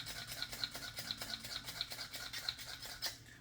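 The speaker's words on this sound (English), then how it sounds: "Menthol grinder, pump action." A menthol grinder with a pump action dusts menthol over a shaving lather in quick, crisp, close repeated clicks and scratches, about a dozen light strokes in a steady rhythm.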